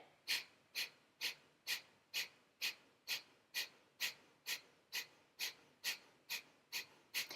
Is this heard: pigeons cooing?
no